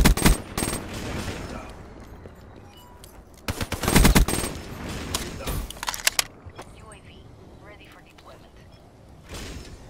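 Gunfire in the video game Black Ops 3 during a Search and Destroy match on the Stronghold map: sharp repeated shots and bursts ring out loudly in clusters, with quieter gaps and game noise between them.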